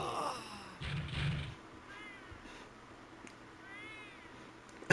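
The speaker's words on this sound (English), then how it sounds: "Hear the cat? That's from the movie. When the cat meows, then they start fighting." A cat meows from a movie scene, a soft, drawn-out cry followed by a few fainter mewing calls over a quiet film soundtrack.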